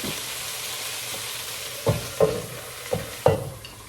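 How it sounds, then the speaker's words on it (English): A steady sizzle of broccolini steaming in a pan with a little added water, punctuated by several clattering stirs and a few sharp taps, close and fairly quiet. "Then I'm just gonna add a little bit of water"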